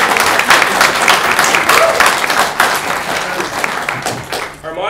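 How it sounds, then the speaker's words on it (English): An audience at a debate event claps together, steady dense applause filling the room throughout before thinning out at the end. "So let's give them all a round of applause for coming"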